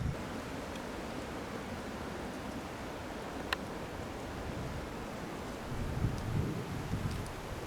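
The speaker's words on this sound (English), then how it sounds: "It's pretty windy" Strong wind blows steadily through woodland during spring turkey season, a loud broadband rush that swells in gusts near the end, with no voices.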